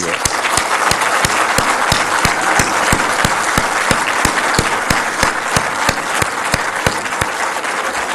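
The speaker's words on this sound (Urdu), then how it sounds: "زوردار تالی لگائیں ان کے لیے" A large audience applauds loudly at a student event, a steady, dense wash of clapping that carries on throughout with no pause.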